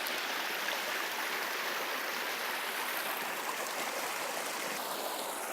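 A fast-moving stream in Lane Poole Reserve flows in a steady broad rushing hiss, constant and moderately close, with no voices or other distinct sounds over it.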